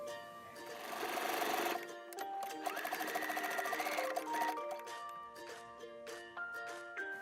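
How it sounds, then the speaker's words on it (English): A Brother sewing machine zigzag-stitches two overlapped elastic ends together for a skirt waistband, a rapid mechanical whirring with fine rhythmic ticks over faint tinkling background tones, fairly quiet and without talk. "overlap the 2 loose elastic ends and zigzag them together"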